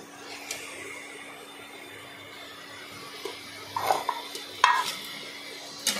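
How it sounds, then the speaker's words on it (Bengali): Fried potato pieces are stirred into a cooked spice masala for a Bhetki fish curry, giving faint scraping stir noises over a quiet background sizzle, growing a little busier near the end. "দিয়ে ভালোভাবে নাড়াচাড়া করলাম।"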